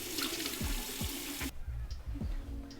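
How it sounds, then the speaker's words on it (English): Tap water runs into a sink while face cleanser is rinsed off, a close, steady splashing rush broken by a few low thumps, cutting off abruptly partway through and leaving faint dripping and splashes. "I'm gonna rinse this off."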